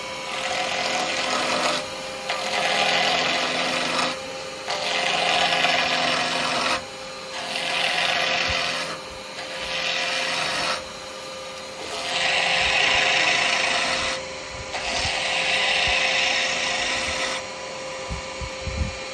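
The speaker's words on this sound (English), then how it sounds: "So, right, I'm going to turn my lathe on." A woodturning lathe runs while a sharpened negative rake carbide cutter scrapes the spinning wood in repeated passes, each a loud, hissing rasp of a few seconds separated by quieter motor hum.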